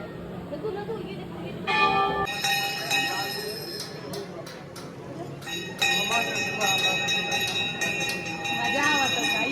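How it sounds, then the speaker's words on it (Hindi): Temple bells at Bijethua Dham ring repeatedly in bright, sustained metallic clangs, loud and overlapping through most of the stretch, with crowd chatter and voices underneath. "ये लोग घंटा बजा रही हैं।"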